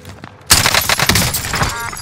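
Enemy gunfire in a combat video game bursts in suddenly after a brief quiet: a loud, dense volley of rapid shots that keeps rattling on without a break.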